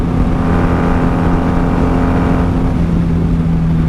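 A 1994 Honda Magna VF750C motorcycle is being ridden, heard from the rider's position. A loud, steady engine drone with wind rush continues unbroken throughout, with no speech.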